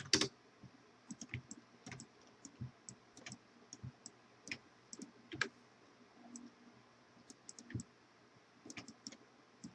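Mouse clicks in bursts while editing Unreal Engine 4 Blueprint nodes for a breakout ball game, sharp close ticks with the occasional double click over faint room hum, and no talking.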